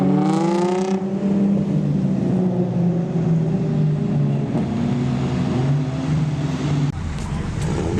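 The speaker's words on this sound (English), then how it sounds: "Got the 370Z gang coming in right now, 350." A group of Nissan 370Z and 350Z sports cars rolls into an outdoor car meet, engines droning loudly and steadily with a rising rev at the start and a shift near the end, close and continuous.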